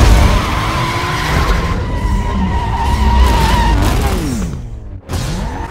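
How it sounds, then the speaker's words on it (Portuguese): Yellow Nissan Skyline R34 in Need for Speed Most Wanted (Redux mod) roars loudly with engine revs while tires skid and squeal continuously, ending in a brief drop and another screech. "Esse aqui sim tá com o ronco do Skyline."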